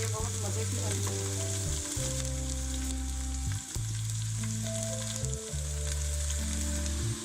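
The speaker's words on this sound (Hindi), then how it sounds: "शिमला मिर्चें हमारी फ्राई हो चुकी हैं।" Sliced capsicum (shimla mirch) fries in a pan over medium heat, giving a steady, close sizzle that runs without pause through the whole stretch with no voices over it.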